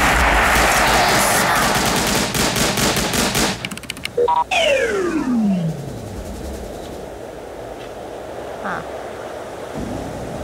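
Rapid machine gun fire in the Tiny Troopers video game, a dense loud rattle of shots that breaks off after a few seconds, followed by a falling whistle and quieter game ambience.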